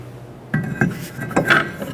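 A new brake rotor on a 2006-12 Toyota RAV4 is fitted onto the hub with a few close, sharp metallic clinks and knocks spread over about two seconds.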